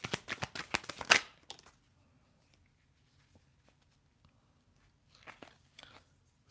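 Tarot cards shuffled in a quick, dense flurry of crisp riffling clicks for about a second and a half, then near silence, with a softer second burst of card handling later.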